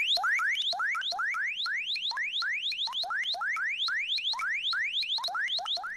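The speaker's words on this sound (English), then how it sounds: "That is the kind of thing that gives me heart attacks as an alarm ringtone." A phone alarm ringtone plays rapid rising electronic chirps in a fast repeating pattern, bright and piercing, steady and loud with no talking.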